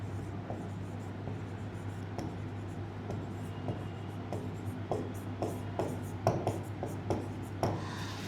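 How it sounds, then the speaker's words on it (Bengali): Chalk or marker scratches across a lecture board in short, irregular strokes and taps, fairly faint over a steady low room hum, with no talking. "আমি এখানে লিখে দিচ্ছি"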